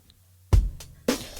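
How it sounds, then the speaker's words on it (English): A short drum pattern with two punchy kick-and-snare hits and a crisp hi-hat tap between them, clean and up close. "I have a drum loop here, and the drum loop sounds like this."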